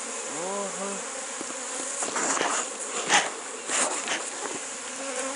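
Honey bees buzz steadily at a nest inside a bait box, a dense continuous drone close by with a few louder swells as individual bees pass near.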